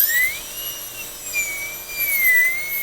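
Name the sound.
dental drill with burr cutting a Class II preparation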